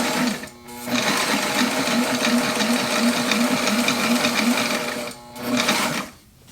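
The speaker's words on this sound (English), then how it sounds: "The thread is starting to shred from the friction of going through all the rubber, but as you can see, the machine doesn't care at all." An industrial walking foot sewing machine stitching through four stacked layers of rubber, running in a steady, loud mechanical chatter with two brief pauses, close up and alone without talk.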